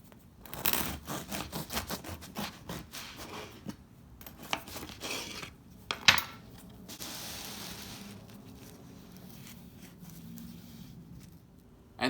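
A knife saws into a loaf of rustic Swiss-style multigrain bread, giving a steady run of dry scraping and crackling crust strokes up close, louder at first and then settling into softer rasping, with no voices.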